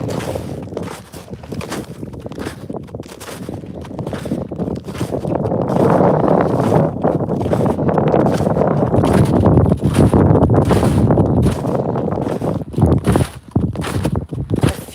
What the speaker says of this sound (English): I feel like this wind might sound awful because it is stronger here